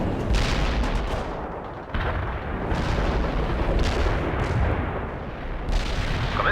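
An artillery barrage in the video game World in Conflict: a dense, continuous roll of heavy booms and blasts, loud and sustained throughout with a few sharper surges.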